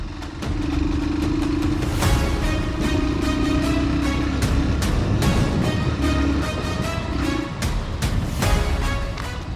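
A Hero Super Splendor Xtec 2.0 125cc motorcycle is ridden hard on the road, its engine droning steadily with wind rush and clattery road noise, close up and without speech.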